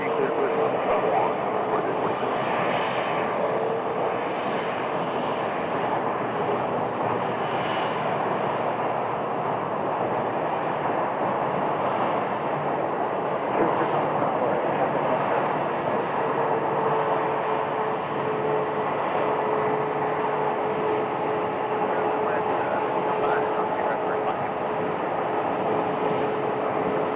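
An airliner departing Phoenix Sky Harbor Airport rumbles as a steady, loud, continuous engine roar through the whole stretch, with radio chatter and talk faintly underneath.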